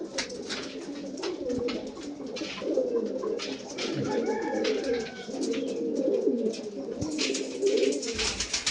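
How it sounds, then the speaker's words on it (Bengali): Madrasi pigeons coo in low, rolling calls that overlap one another nearby and continue almost without a break, with faint rustles and small knocks around them. "এটা খুব ভালো পায়রা"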